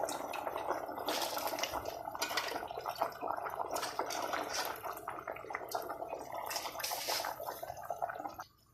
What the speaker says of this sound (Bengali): এই মারাগের মধ্যে ঢেলে দিব পানিগুলো